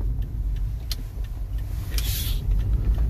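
Steady low engine rumble and road noise from inside a moving car on the way to a farming community, close and continuous with a couple of faint higher clicks, no speech.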